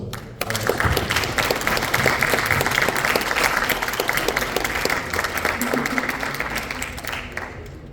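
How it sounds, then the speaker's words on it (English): An audience bursts into loud applause at a tech talent pitching event in Warsaw, dense clapping starting abruptly after a brief pause and holding steady for several seconds before slowly thinning out. "Big applause to"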